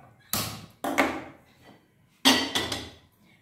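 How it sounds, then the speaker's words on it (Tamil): A pressure cooker handled on a kitchen stove: a few sharp metallic knocks and clanks, spaced apart, close and fairly loud against a quiet room. "முதல்ல ஒரு குக்கரை எடுத்துக்கணும்"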